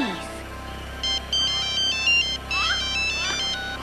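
A cell phone ringtone plays a bright electronic melody in short repeated bursts, close and clear, with talk around it.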